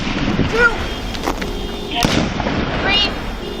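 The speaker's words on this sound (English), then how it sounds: "Shots fired, shots fired. 3 shots." Gunshots ring out at night during a police confrontation, sharp bursts cutting through a noisy outdoor scene, with radio chatter and voices mixed around them.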